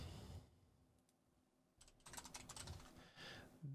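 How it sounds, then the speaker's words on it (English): Computer keyboard typing during 3D software work: a short soft burst of key clicks, then a quieter pause, followed by a denser, louder run of rapid keystrokes, close and alone without talk. "I'll just type in Splines."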